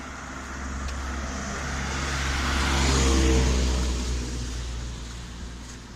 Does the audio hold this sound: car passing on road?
yes